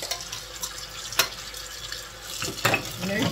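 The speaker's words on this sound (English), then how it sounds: "I'm going to put water in my sink." Hot water running into a kitchen sink before canning apple butter in jars, a continuous hiss of flowing water with a few clinks, growing louder near the end.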